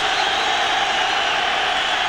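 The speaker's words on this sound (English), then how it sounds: "Crowd trying to fire up the defense." Stadium crowd at an NFL game between Cincinnati and the New York Giants in 1997, a steady loud roar of cheering fans urging on the Giants' defense, continuous with no breaks.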